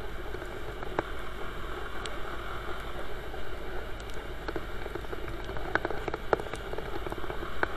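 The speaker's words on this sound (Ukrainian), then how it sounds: "пішов невеличкий дощ" Light summer rain falls outdoors as a soft, steady patter, with scattered louder drops striking nearby surfaces now and then.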